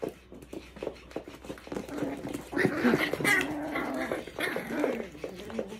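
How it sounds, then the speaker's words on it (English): Puppies roughhouse at midnight, snarling, growling and giving short barks and whimpers in bursts, close and fairly loud, with no talk over it. "One of my puppies like to get rowdy at midnight"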